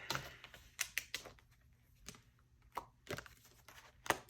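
Tarot cards being shuffled, a series of quiet sharp riffling and slapping bursts spaced irregularly, close and alone with no talk.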